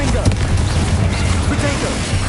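A Confringo blasting spell explodes in Hogwarts Legacy, a loud booming burst set against dense game noise, with a voice speaking over it.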